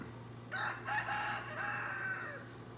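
A rooster crows once, long and drawn out, close and clear over a quiet steady background hum.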